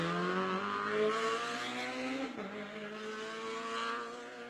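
A small Opel Corsa rally car at Rally Barbados 2018 on the Malvern stage, its engine droning steadily and shifting pitch over several seconds, heard at moderate distance as a continuous buzzing whine.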